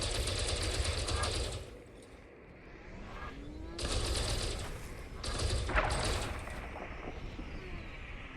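Ship weapons fire in bursts at a metallic meteorite in Elite Dangerous, a loud rattling, mechanical stream of shots that stops and restarts over a steady engine hum.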